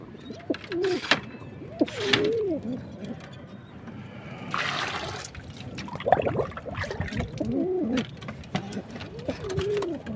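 Pigeons in a loft, including an old bird about five years of age, coo nearby in soft repeated calls, with a brief burst of wing flutter and shuffling in the middle and low background noise.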